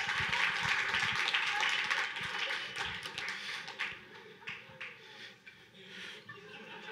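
A hackathon audience claps and chuckles as the dense applause fades into a few scattered late claps, with murmured voices and laughter mixed in.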